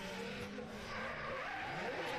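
A drift car at Driftland in British Drift Championships Pro 2 qualifying swings into a corner on the handbrake, its engine roaring loud and steady as the tyres screech and skid without a break, with no voices.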